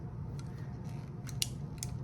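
Vintage pinking shears snap open and shut in a few quiet, crisp clicks, spaced unevenly and close by, over a low steady room hum.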